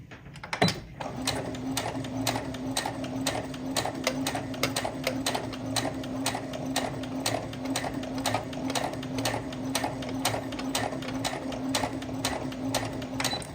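A sewing machine stitching down the length of an apron, a steady rapid rhythmic clatter of needle strokes running continuously, close and fairly quiet, with no talking.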